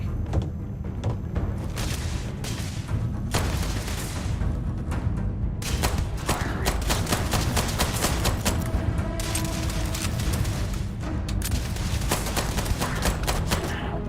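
Sustained gunfire from a firefight against strafing enemies in Starfield, a dense, loud barrage of rapid shots and booming impacts that runs throughout with no pauses.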